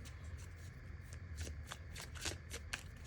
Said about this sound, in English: I'm going to shuffle some more tarot cards